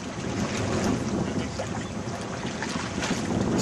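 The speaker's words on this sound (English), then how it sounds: "Sailing on Lake Winnipeg." A sailboat under way on Lake Winnipeg near the Narrows, with steady wind buffeting and the continuous wash of waves against the hull, broadband and unbroken throughout.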